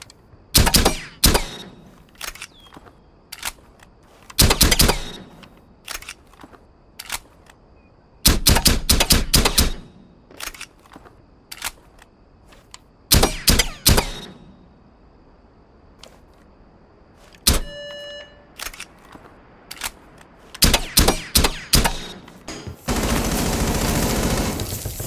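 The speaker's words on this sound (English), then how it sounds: "Its greatest strength is its low recoil kick, which is essential for IQ, as this is the only weapon she can use when using her R&D scanner" Rapid bursts of automatic gunfire from IQ's low-recoil weapon in the video game Rainbow Six Siege, loud and close, in repeated short volleys separated by brief pauses, with a steady noisy rush near the end.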